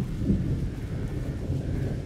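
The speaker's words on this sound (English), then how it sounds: "Sure, lightning, because that never happens in a horror game." Rolling thunder and steady rain in a horror video game, a dense low rumble filling the whole stretch alongside constant hiss, with no talking.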